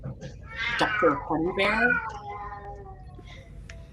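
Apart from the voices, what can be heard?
cat meowing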